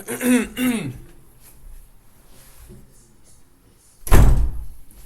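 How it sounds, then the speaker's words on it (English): A room door is pushed shut and lands with a single loud, close thud near the end, after a couple of throat-clearing coughs and a quiet pause. "Let me close my door."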